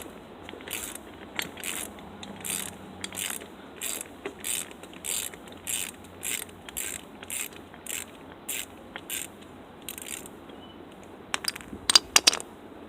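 Ratchet wrench loosening a nut on an axle trolley, with a long run of rhythmic clicking strokes, close and fairly loud, ending in a few sharp metallic clanks, with no talk.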